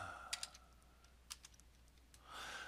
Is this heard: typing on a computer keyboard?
yes